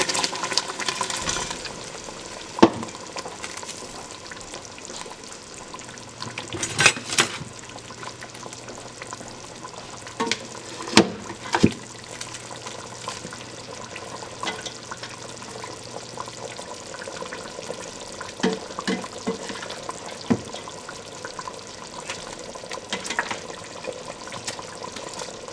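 Low sizzling of egusi soup sauce frying in a pot, with occasional clinks and scrapes of stirring utensils against the pan.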